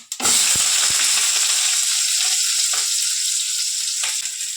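Mustard seeds hit hot oil for a bitter gourd stir-fry and sizzle loudly and steadily, with a few faint pops and spoon clinks through the close, hissing fry.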